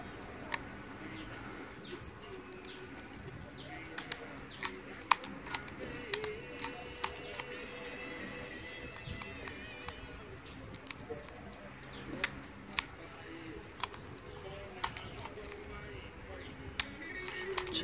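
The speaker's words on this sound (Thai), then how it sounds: "ชัตเตอร์สปีดทำงานตามค่าแสงนะ" A Yashica Electro 35 GX film camera on the bench fires its shutter again and again, producing sharp, quiet mechanical clicks at irregular intervals over a low room hush while someone talks.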